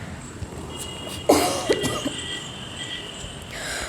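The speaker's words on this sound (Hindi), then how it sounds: "खांसी भी बहुत ज़्यादा हो रही है मुझे" A single sharp cough, close and fairly loud, followed by a couple of softer throaty bursts over a quiet indoor background.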